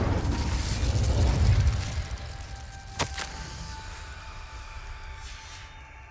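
An Incendio fire spell is cast in Hogwarts Legacy, opening with a low rumbling whoosh that fades, then a sharp crackling burst near the middle that trails off into a quieter hum.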